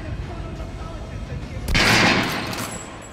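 Weapon fire in the video game Metro Redux, a sudden loud burst of shots after a low rumbling background, with a voice talking under it.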